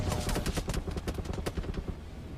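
A bomb thrown in the mobile battle game BGMI, heard as a rapid, dense burst of crackling gunfire-like blasts with loud rhythmic pops throughout.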